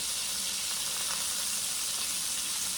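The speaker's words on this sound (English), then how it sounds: "I'm dipping it in this butter sauce in the pan" Tri-tip steak sizzling in butter sauce in a hot pan, a steady bright hiss of frying that stays constant and close, with no talking.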